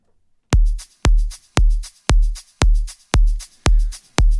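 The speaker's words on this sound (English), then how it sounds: "I've added this extra shaker lead that sounds like this" Electronic track loop with an added shaker lead, steady evenly spaced hits, each a loud low thump trailed by bright shaker-like rattles, about eight beats in a row, close and alone.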